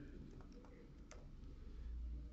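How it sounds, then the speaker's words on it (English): Soft tapping of a password being entered on a tablet, a few faint, scattered taps over a steady low background hum, with no talking. "if you start typing your password down here"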